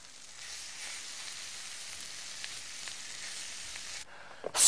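Curry powder and flour are stirred in a pan, giving a continuous soft sizzling, scraping hiss that runs steadily and ends with a brief louder clatter.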